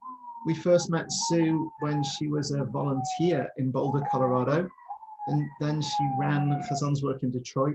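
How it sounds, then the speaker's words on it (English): An emergency siren wails outdoors behind a speaker in Denver, Colorado, its tone gliding downward in repeated sweeps that run steadily underneath continuous speech. "Sorry about the siren behind us."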